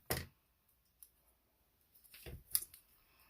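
Scissors snip a small banner shape into the edge of a paper greeting during card stamping, giving a few sharp, close, separate cuts with quiet pauses between them.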